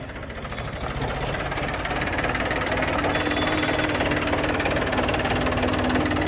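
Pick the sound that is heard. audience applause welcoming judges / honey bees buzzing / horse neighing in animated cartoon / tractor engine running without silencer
tractor engine running without silencer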